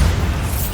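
A Bombarda spell explosion in the Hogwarts Legacy video game, a short, loud, deep boom that fills the moment with a rumbling low burst.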